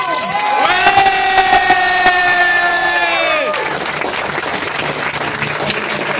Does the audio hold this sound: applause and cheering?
yes